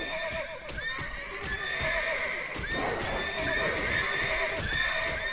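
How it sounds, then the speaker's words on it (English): A horse in the World of Warcraft video game whinnies several times over a steady clip-clop of hooves, loud and close, layered with game ambience. "Oh, we stole your horse too"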